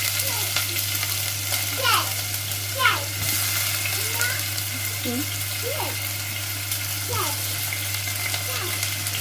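Mustard seeds and onion fry in hot oil with a constant close sizzle, punctuated by occasional light stirring scrapes and a low steady hum beneath.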